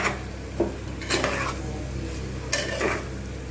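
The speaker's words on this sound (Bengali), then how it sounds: "একটু ঢাকনা দিয়ে দিয়ে আমি কিন্তু এটা কষতে থাকবো" Mutton curry with potatoes being stir-fried in a pan, partly covered with a lid: a low steady sizzle under a few sharp metallic scrapes and clinks of the spoon against the pan, close up, no talking.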